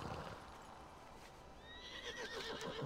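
A horse in a video game gives a rising, shrill whinny toward the end, faint and somewhat distant against a low background murmur.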